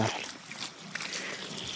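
Water gushing from a motor pump onto farm trees in a mango orchard, a soft continuous trickling and splashing heard faintly and fairly close, with no voices.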